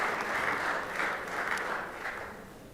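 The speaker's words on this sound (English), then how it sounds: "So give her a round of applause." Applause in a state Senate chamber for a guest in the gallery, an even wash of many hands clapping at moderate volume, sustained without pause.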